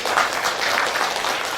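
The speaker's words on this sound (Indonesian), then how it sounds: "Tepuk tangan buat kalian." Steady applause from an audience at an elementary school graduation ceremony in Bekasi, honoring the sixth-grade graduates; a dense, continuous wash of clapping held at an even level throughout.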